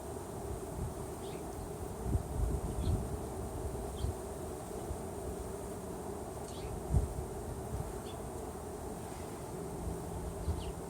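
Bees hum steadily around a backyard hive, a low continuous drone with occasional closer passes buzzing by, under light wind noise.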